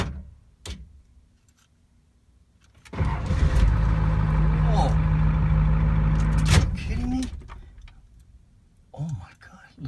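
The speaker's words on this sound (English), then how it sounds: "Let's see how the new starter sounds" A Ford 7.3 IDI diesel cranking on a new high-torque starter, a strong steady churning roar lasting several seconds before stopping abruptly, with quiet voices and clicks around it.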